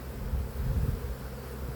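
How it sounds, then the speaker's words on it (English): Bees swarm around an opened beehive at the end of the season, a thick, low, close buzzing that rises and falls slightly over a couple of seconds. "I think I got a bee up my shirt."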